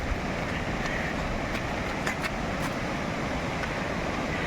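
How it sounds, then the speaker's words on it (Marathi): The Urmodi river runs full after monsoon rain in a village, a steady, dense rushing of water that stays loud and even throughout, with no voices. "हे बघा ही आपली उरमोडी नदी"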